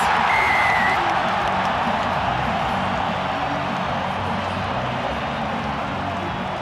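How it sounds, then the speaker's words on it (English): A big stadium crowd at Loftus Versfeld in Pretoria roars steadily after a successful long-range penalty kick in a 2018 Springboks versus All Blacks rugby test, a dense, sustained cheer filling the whole stretch without letting up. "The Loftus crowd will tell you whether it's got enough. It has!"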